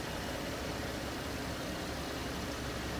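A 2010 Cadillac CTS AWD Wagon engine idles with its hood open, a steady, even hum with a smooth low rumble recorded close up, with no talking.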